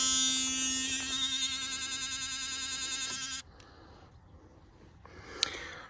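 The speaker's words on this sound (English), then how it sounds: "Gonna use the electric toothbrush to get that pollen" An electric toothbrush buzzes steadily against a tomato flower to shake out pollen, a loud harmonic whine lasting about three seconds before cutting off, leaving quiet handling noise and a brief tap.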